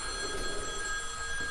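A telephone rings in the horror video game Boogeyman, a steady electronic bell tone with sustained harmonics, clear and moderately loud on its own.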